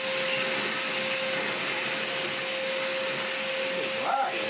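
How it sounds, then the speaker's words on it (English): Sealey 20V cordless shop vacuum hooked to an extractor, running loudly with a steady airy whine and hiss while sucking up sawdust, a voice briefly heard near the end. "Let's hook it up to the extractor."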